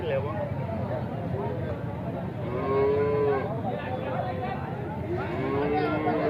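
Cows moo repeatedly at the Alephata cattle market, several long, drawn-out calls close by, mixed with a crowd chattering and general market bustle.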